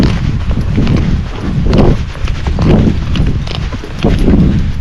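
A gaited horse's hooves clip-clop in a steady, rhythmic beat outdoors, loud and close, with wind-blown rustling in the background.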